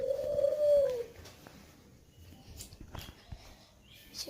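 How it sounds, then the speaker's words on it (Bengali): A single soft, drawn-out coo from an Australian dove kept at home opens the stretch, fading after a second into quiet room rustles and light clicks. "তো গাইস আমাদের বাসায় ঘুঘু পাখি হয়েছে"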